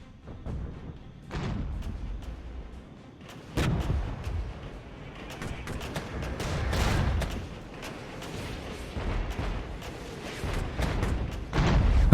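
Distant tank cannon booms and infantry gunfire in the Regiments strategy game rumble in irregular bursts, with heavier low thuds rising and falling under a steady battle din.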